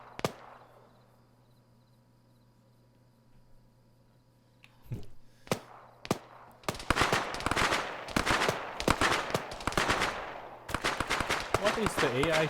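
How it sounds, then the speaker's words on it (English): AI soldiers open fire in Arma 3: after a quiet stretch with a low hum, a few isolated shots crack out, then long loud bursts of rapid automatic gunfire, with a voice talking briefly amid the shooting. "What is the AI shooting at?"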